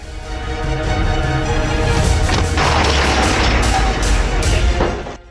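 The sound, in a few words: North Korean Koksan artillery gun firing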